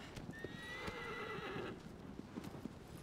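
Horse hooves clip-clop steadily throughout a Shadow of the Colossus remake scene on PS4, with a clear rising whinny in the first half, close and prominent.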